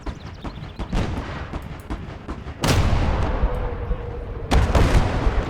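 Artillery fire in a war video game, heavy booms landing against a rumbling battlefield background, two big blasts near 2.6 and 4.5 seconds followed by sustained loud roar and scattered smaller shots.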